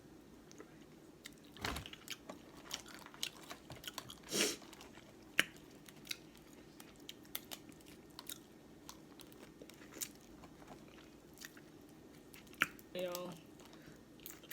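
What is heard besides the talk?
eating crab and seafood, mukbang chewing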